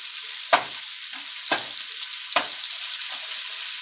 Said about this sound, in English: I am going to drop my onions in here and get them nice and opaque.